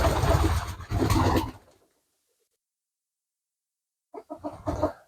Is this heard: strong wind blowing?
no